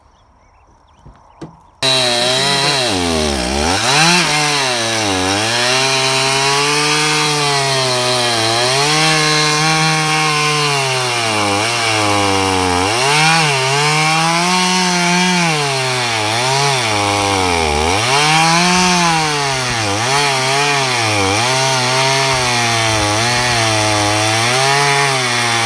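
A chainsaw cuts firewood on a North Idaho homestead, its engine screaming loud and close under load, with the pitch dipping and rising repeatedly as the chain bites through each log, and no talking.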